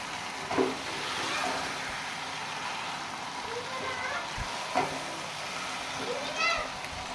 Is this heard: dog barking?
no